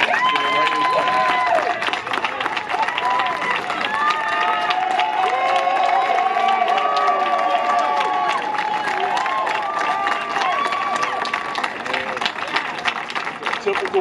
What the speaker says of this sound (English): Knows how to get the claps from back there